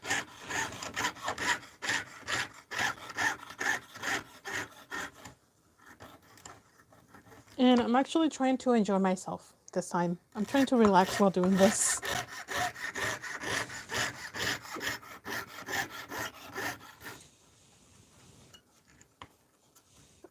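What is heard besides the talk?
saw cutting copper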